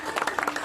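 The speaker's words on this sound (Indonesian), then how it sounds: "Kami tepuk tangan." A small group claps at a gathering, with distinct individual claps coming in quick, slightly uneven bursts rather than a dense roar, moderately close and brief.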